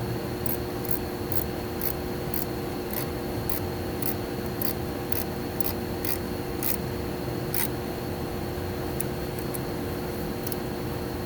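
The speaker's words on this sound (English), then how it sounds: "I don't know if you can hear the clicking of the ratchet over the heater behind me" A ratchet clicks in short, regular bursts while snugging a lower bolt on a water pump during a 2014 Chevy Malibu repair, the sharp ticks partly masked by a heater's steady hum.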